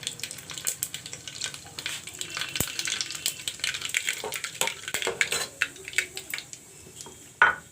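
Black mustard seeds and three dry red chilies fry in hot oil, giving a close, busy crackling sizzle with scattered sharp pops and a few metallic utensil clinks throughout.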